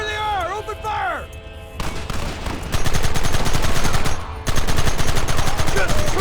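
Rapid, dense gunfire in the video game Red Dead Redemption crackles loud and close in sustained volleys after a brief swooping tonal sound, with shouting voices mixed in.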